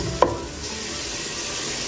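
Whole ginger pieces sautéing in a pan for a coconut and fish soup, a continuous close sizzle with one sharp clack of a utensil near the start.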